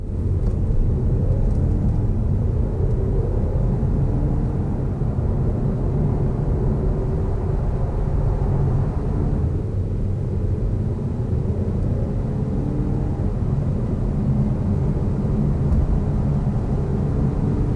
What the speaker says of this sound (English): Let's see it in action on the 30 to 70 sprint.